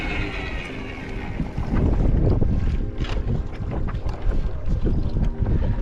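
A FeelFree Dorado V2 kayak moving across open water gives a loud, continuous rushing and churning, with gusty wind noise buffeting the microphone throughout.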